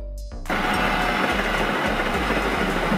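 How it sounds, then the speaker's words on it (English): Subway train for urban rapid transit, with a brief tonal hum that gives way to a loud, steady rumbling roar of the moving train lasting to the end. "An underground or elevated train system designed for rapid transit in urban areas"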